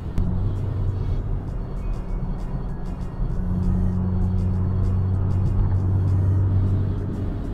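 A car's engine rumbles low and steadily, then grows louder and fuller as it accelerates, with continuous road noise underneath.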